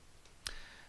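One quiet, sharp mouse click, isolated against faint background hiss.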